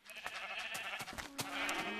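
Repeated sheep bleats from the video game Minecraft, several overlapping calls in quick succession, loud and close, with no talking over them.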